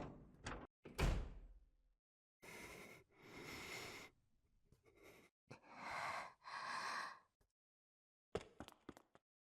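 Door opening at an emergency exit in the visual novel game Chaos;Child: a sharp handle clunk and slam followed by long sliding, whooshing door noises and breathy effects, fairly clear with no speech.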